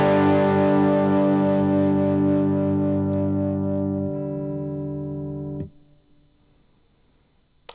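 Electric guitar through two independent amps on a Quad Cortex, a distorted chord ringing out with effects, then decaying in steps and cutting off near six seconds, leaving faint residual hum.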